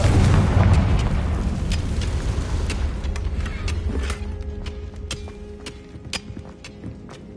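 A Confringo fire spell explodes in Hogwarts Legacy with a loud, deep booming blast up front, then rumbles and fades over several seconds while sharp crackles and pops keep flickering through the tail.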